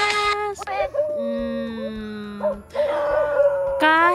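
Several dogs howl and whimper close by, drawn-out tonal wails rising and falling over a few seconds with short breaks between cries.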